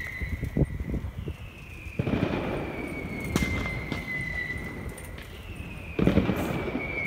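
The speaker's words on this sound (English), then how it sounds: "with a few firecrackers in the background" Sharp firecracker bangs pop over a steady roar of wind or surf at the Valencia seafront during Fallas, a few distinct cracks at irregular intervals, moderately distant.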